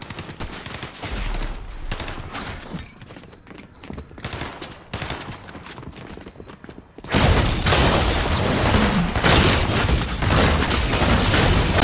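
Rapid bursts of gunfire from a Fortnite match, sparse cracks at first, then a dense, loud continuous volley of shots that dominates the second half.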